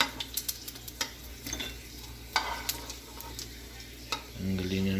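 Chicken skin fries in oil for chicken inasal, giving a crackling sizzle dotted with sharp pops and stirring scrapes, close and fairly loud, before a steady humming tone rises in the final second.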